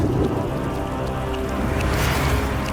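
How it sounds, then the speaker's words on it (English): Steady, dense rain hiss in the video game Wuthering Waves, a continuous broadband wash that stays loud and even throughout with no talking. "Until the retroact rain began to fall."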